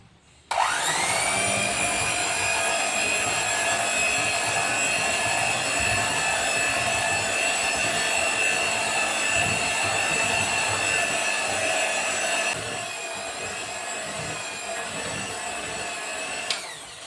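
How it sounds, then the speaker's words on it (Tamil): An electric beater mixes pizza dough for a paneer tikka pizza, starting abruptly into a loud steady motor whine that holds unbroken for about sixteen seconds, easing slightly in pitch and volume near the end. "இப்போ ஒரு எலக்ட்ரிக் பீட்டர் எடுத்து இதை நல்லா மிக்ஸ் பண்ணிக்கலாம்."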